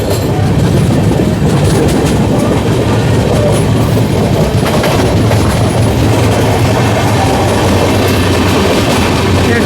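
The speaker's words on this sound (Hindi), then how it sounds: "full action mode Amrit Bharat express and Lucknow new Delhi Tejas express" The Amrit Bharat Express on a New Delhi run, rushing at full speed with a loud continuous roar, rhythmic clickety-clack of wheels over rail joints and faint squeals, heard close from aboard or trackside.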